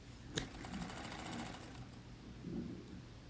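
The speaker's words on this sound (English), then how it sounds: "Now you can finish sewing the last bit of binding in place." A sewing machine stitches binding onto a quilt, giving a quiet, steady mechanical hum with faint rhythmic clatter, heard at a low level and fairly close with no talking.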